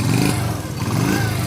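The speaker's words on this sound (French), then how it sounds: "c'est un bruit, c'est un bruit de 4 temps." Close by, a 50cc four-stroke scrambler motorcycle runs with a steady, fairly loud low chugging, the pitch dipping slightly midway before picking back up.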